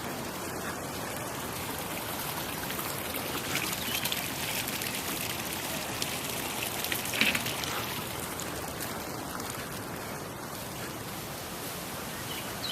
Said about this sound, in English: Little water fountain.